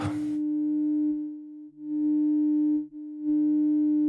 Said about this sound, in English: four-quadrant multiplying the sine wave with itself, we're getting the perfect octave up